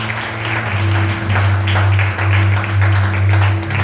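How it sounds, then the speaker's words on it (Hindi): A church congregation applauds loudly during a live service, a dense steady wash of clapping that swells and dips over about four seconds, with a strong low hum running underneath. "जोरदार ताली बजाओ"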